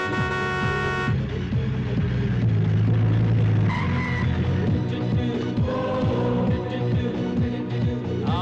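A van drives in at close range with tyres skidding and engine revving, and short horn toots sound over the continuous road noise.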